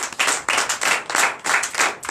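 A church congregation at a Sunday worship service in Comè, Benin, claps together in a steady rhythmic beat, loud and close, with no talking over it.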